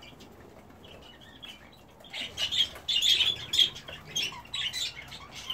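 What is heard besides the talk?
budgies and cockatiels calling in an aviary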